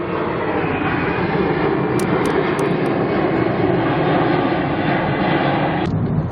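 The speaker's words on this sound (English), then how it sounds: "Now there's a jet taking off." A loud, steady roar of jet engines fills the air, a broad continuous rumble like an aircraft taking off nearby, with a faint beep over it.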